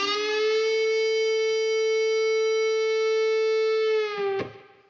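An electric guitar plays one sustained, bent note from a solo, ringing steadily for about four seconds, then sliding briefly and cutting off with a short pick scrape.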